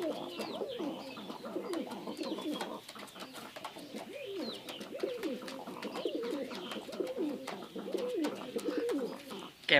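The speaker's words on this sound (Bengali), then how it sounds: "অনেক সুন্দর এক জোড়া কবুতর" A pair of pigeons offered for sale coo steadily and close by, their low rolling calls repeating in overlapping phrases throughout with little pause.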